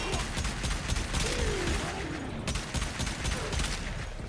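Aklex Prime pistol shots in the Warframe video game, rapid sharp cracks fired in quick bursts, loud and close over a busy combat background.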